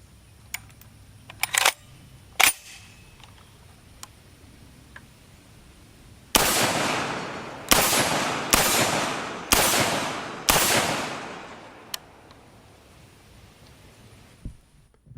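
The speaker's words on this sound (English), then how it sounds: "making double taps on an IPS steel silhouette at about 20 yards or so is very nice" Five loud FN SCAR 16s rifle shots ring out at steel IPS silhouette targets at roughly 20 yards, fired in a loose rhythm of quick pairs and singles with short ringing decays, after a few faint clicks and taps.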